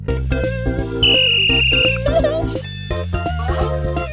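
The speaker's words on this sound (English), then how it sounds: "He has a whistle," A shrill, sustained whistle blast from a cartoon traffic policeman rings out briefly over a bouncy musical backing with other playful tones.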